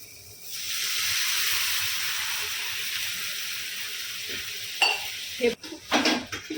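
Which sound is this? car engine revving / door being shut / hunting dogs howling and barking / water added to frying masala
water added to frying masala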